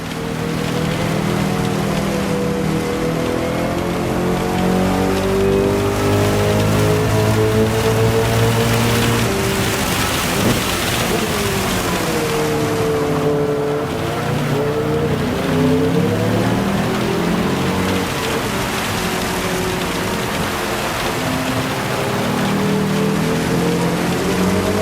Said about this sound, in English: The rain seems to be picking up